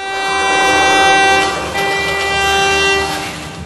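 A train horn sounds loudly in a long sustained toot, breaking briefly and then resuming as the train passes nearby, with rail rumble beneath and no talking.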